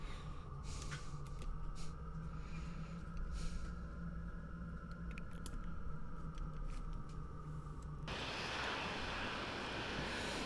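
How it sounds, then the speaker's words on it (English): An aircraft taxis in the Falcon 4.0 flight simulator game, a steady droning engine hum with a whining tone that shifts to a broader, louder rush near the end. "So that's us taxiing."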